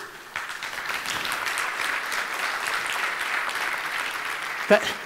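Audience at a startup conference breaks into applause, a dense, even wash of clapping that holds steady for about five seconds before a sharp clap near the end.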